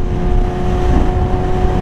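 A Yamaha R6 motorcycle with a loud full exhaust revs hard and close, a sustained raspy engine roar that cuts off abruptly at the end.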